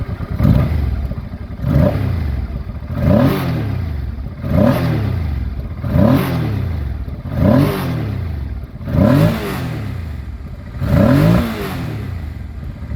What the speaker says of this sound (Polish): Pięknie chodzi, trzyma, zobaczcie, obroty tak naprawdę na 1000.